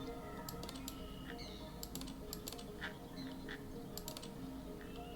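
Silly birds in a video in The Stanley Parable video game, faint quacking and honking calls repeated over a steady background hum, with light clicking.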